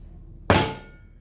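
A single sharp knock of a pot against a glass induction cooktop, ringing briefly and fading in quiet.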